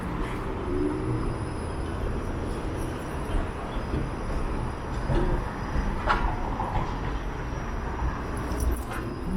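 A Toronto streetcar rolls along a downtown street with a steady broadband rumble and occasional faint metallic squeals, heard amid continuous city traffic noise.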